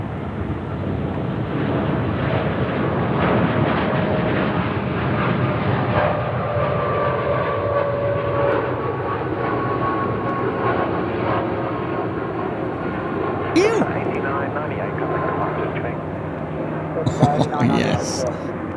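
A Jetstar airliner taking off at Sydney Airport, a loud sustained engine roar that holds steady for the whole stretch, with a few brief clicks and knocks near the end.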